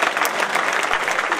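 A brief, full burst of audience applause at a university freshers party, many hands clapping at once, close and even.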